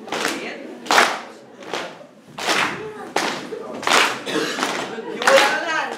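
A group rhythmically slaps knees and claps hands in a steady repeating pattern of sharp bursts, with voices calling along in time over the beat.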